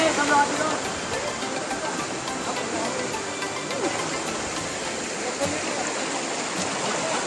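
Zenith waterfall near Lonavala roars steadily and loudly up close, a dense continuous rush of falling water with no break for the whole stretch.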